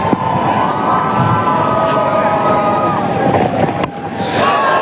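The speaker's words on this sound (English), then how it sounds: "the Ireland fans in the crowd are up and about" Ireland fans in a cricket stadium crowd at an India vs Ireland T20 match, a loud, sustained roar of cheering and shouting with whistles and horn-like tones rising over the din.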